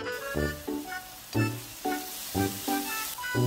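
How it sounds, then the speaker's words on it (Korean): Sliced onions stir-fried in an oiled pan for Japanese home-style curry: a soft sizzle with a rhythmic series of louder stirring bursts, close and steady, with no talking. "양파 먼저 볶아줍니다."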